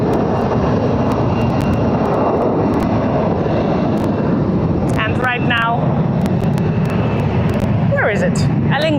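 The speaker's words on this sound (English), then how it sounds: "Lingus is on approach from Dublin. The A320 Neo." An Aer Lingus Airbus A320neo arriving from Dublin on approach produces a loud, continuous jet roar, with brief bird chirps and people talking over it.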